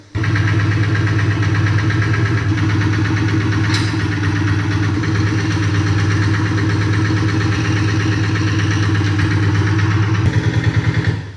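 A motorcycle engine runs steadily and loudly close by at a school riding practice as the clutch is let out, with a faint rise near the end.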